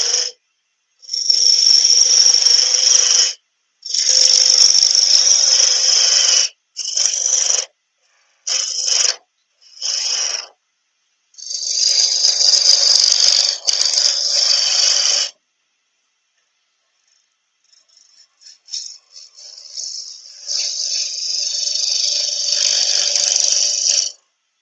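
A wood lathe spinning at 1400 RPM while a wooden fruit is turned, with a tool cutting in a series of hissing, scraping passes broken by short pauses and a longer quieter stretch near the end.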